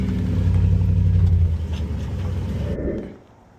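A 2004 GMC Yukon engine on a homemade two-step launch limiter holds a loud, steady low rumble for about a second and a half, then sputters and drops away to quiet near the end.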